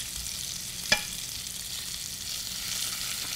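Egg frying in a pan with added flavourings, a steady soft sizzle throughout with one sharp utensil tap near the start.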